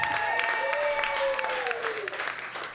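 A comedy club audience applauds a comedian at his first headlining show, a loud burst of clapping that fades slowly. A voice and a few sustained tones run underneath.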